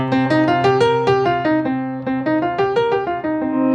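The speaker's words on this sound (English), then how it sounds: "that's the pentatonic scale." A sequence of sustained melodic notes played one after another, stepping up and down a five-note scale, clear and close with no talking.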